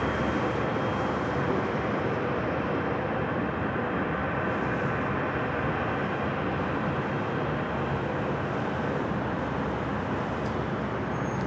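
A heavy jet airliner roars steadily and loudly at Los Angeles LAX airport, a broad continuous rumble with no breaks.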